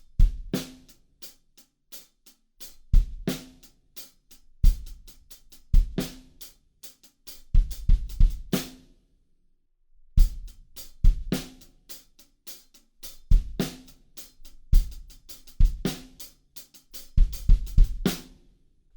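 Drum kit plays the verse of a song through to a stop on beat four, with punchy kick and snare hits in a steady groove broken by brief gaps, loud and close with no voices.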